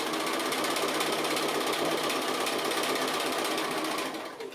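A home sewing machine stitches an appliqué, a steady, fast, close mechanical whirr with rapid needle chatter that holds throughout and eases off at the very end.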